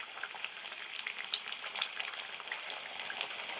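Potato roll samosas deep-frying in hot oil give a steady, close bubbling sizzle with fine crackles throughout, no voices.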